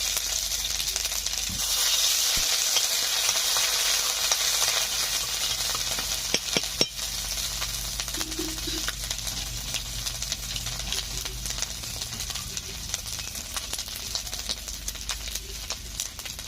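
Bay leaf and ginger paste sizzle steadily in hot mustard oil, a continuous close frying hiss with occasional stirring scrapes and soft taps, no voices.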